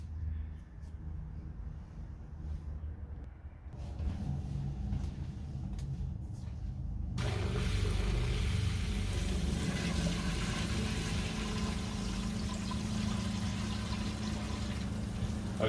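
A quiet RV water pump hums steadily while water pours in to refill a drained water heater; the flow grows louder and fuller about halfway through and holds a broad, even rush.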